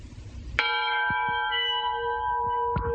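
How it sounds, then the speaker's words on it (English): An old train engine bell, now kept indoors, struck once with a sharp clang and left ringing in a long, steady harmonic tone, with a second strike near the end; loud and close, no talking. "what is out of sight down here in the corner is the bell off of the engine from outside"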